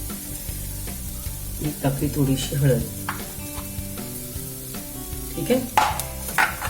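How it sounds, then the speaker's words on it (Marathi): Potato bhaji with a little turmeric sautéing and being stirred in a pan, with crackling sizzle and scraping strokes of the spoon at close range; a voice speaks briefly. "आणि परतत राहूया थोडीशी"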